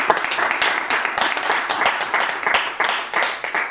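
A church congregation claps and applauds together to acclaim Jesus Christ, a dense, loud, continuous burst of hand claps with some voices mixed in, close and filling the room.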